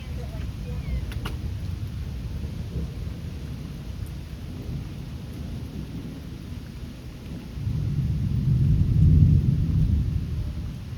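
Thunderstorm with steady rain and a deep rolling rumble of thunder that swells toward the end, a continuous low roar without talk.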